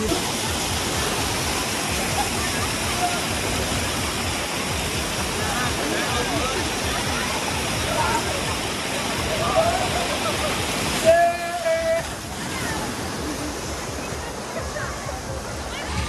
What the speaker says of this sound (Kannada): ಟ್ಯಾಂಕ್ ಮೇಲಿಂದ ನೀರು ಬೀಳ್ತದೆ